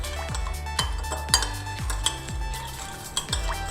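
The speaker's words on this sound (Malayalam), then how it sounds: "നന്നായിട്ട് നമ്മളത് മിക്സ് ചെയ്ത് കൊടുക്കണം." A spoon scrapes and clinks against a pan while sugar is stirred into ginger chicken sauce, a steady rhythm of strokes with light sizzling underneath, close up and with no talking.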